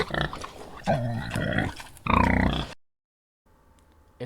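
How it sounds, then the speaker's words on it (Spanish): Layered Foley for an animation: a pig's wet chewing and deep grunts mixed with stretchy tongue and swallowing sounds, in bursts of close, loud squelching and snorting that cut off into near silence before a faint noise returns. "usando 4 sonidos diferentes. El de una lengua estirándose, 2 de alguien tragando y 1 de un chancho masticando y gruñendo."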